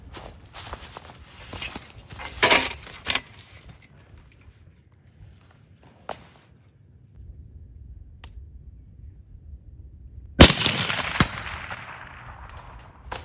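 A single sharp rifle shot fired at a target through a GoGunnr Heimdall scope, a sudden loud crack near the end after quiet handling and shuffling noises, with a brief decaying tail.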